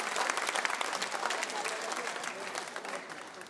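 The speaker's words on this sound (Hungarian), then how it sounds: "amelyet most nagy tapsal köszönjünk meg neki" An audience at a summer evening music event in Cegléd claps in a dense, lively burst of applause that gradually thins slightly toward the end.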